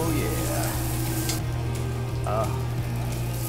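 Jerk beef steaks sizzle loudly and steadily on a hot grill, a dense close crackle and hiss with a few louder pops.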